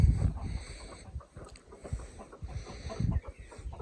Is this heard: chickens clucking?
yes